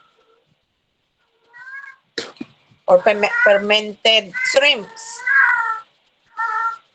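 A household cat meows in a few short calls amid close Filipino conversation, with people talking over and between the meows.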